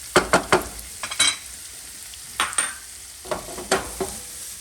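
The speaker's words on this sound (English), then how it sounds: "now we put the garlic, shallot, and then my oil baby hot pepper, and we saute together" Sausage sautéing with garlic, shallot and hot pepper in a pan, with sharp bursts of stirring and scraping every second or so over a low, steady sizzle.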